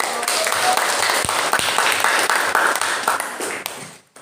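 Classroom audience clapping after a group's physics presentation in a teacher-training lesson at Universitas Papua; a dense, steady patter of many hands fills the clip with a few sharper claps and some faint voices, fading out at the end.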